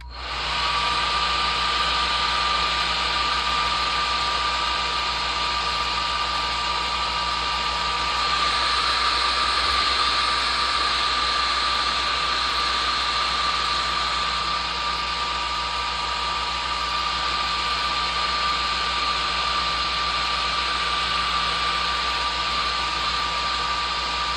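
A steady, loud whooshing heat gun runs without pause while drying paint during weathering of a model railroad tank car, a close continuous blower hum with a faint whine.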